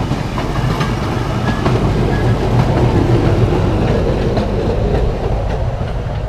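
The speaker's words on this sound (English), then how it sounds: "one last shot of the train" A train rolls steadily past at a Poway train park with creek bridges, a continuous loud rumble and clickety-clack of wheels over the rails filling the whole stretch without a break.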